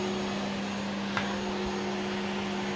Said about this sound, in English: Can you hoover this?